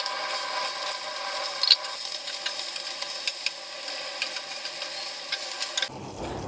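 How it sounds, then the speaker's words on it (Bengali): Fish frying lightly in soybean oil for a hilsa curry, a steady soft sizzle with faint crackles and occasional spatter pops, continuing evenly before stopping abruptly. "আমি মাছটা হালকা করে ভেজে নিব।"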